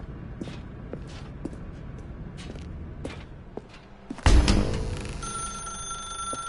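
A telephone rings in the video game The Stanley Parable, a sharp bright ring that bursts in loud partway through after quieter footsteps and creaks, then holds a sustained electronic tone to the end.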